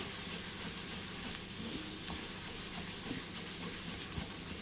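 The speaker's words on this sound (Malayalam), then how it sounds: "ഈ പൊടികളെല്ലാം കൂടെ നമുക്കൊന്ന് വഴറ്റിയെടുക്കണം" Spice powders and garam masala sauté for a capsicum masala, giving a steady, soft, close sizzle with faint stirring scrapes and no speech.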